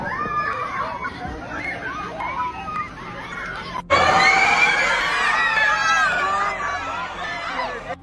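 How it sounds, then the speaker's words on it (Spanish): Fans screaming at Jorge Chávez airport in Peru to greet a social media influencer, a dense crowd of high shrieks and chatter that surges suddenly louder midway and stays intense. "fue recibido en el aeropuerto Jorge Chávez por sus fanáticas que gritaban su nombre"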